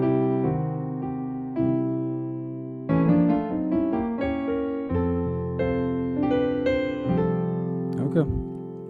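Piano playing the gospel song "Only Believe" with a quick passing run, sustained chords and melody moving through several changes, steady and close with a brief brighter flourish near the end.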